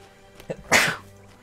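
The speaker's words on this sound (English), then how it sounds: "have to sneeze." A single sharp sneeze bursts out after a short inhaled buildup, loud and close, then quiet.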